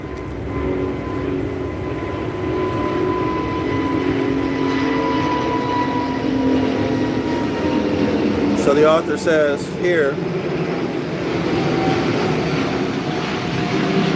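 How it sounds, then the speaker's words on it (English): An airplane passes overhead, a steady broad rumble that runs throughout beneath someone talking close by. "let me let the airplane go by"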